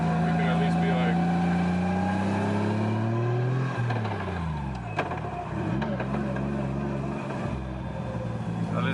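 A Nissan 240SX S13 with a swapped 1JZ engine creeps along slowly, its low steady engine drone rising and falling gently as it shifts, with people talking inside the car over it.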